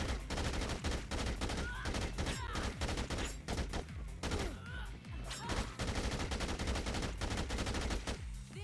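Gunfire in the video game Dead Rising 2, with dense rapid bursts of shots and an automatic weapon firing almost continuously, loud and close.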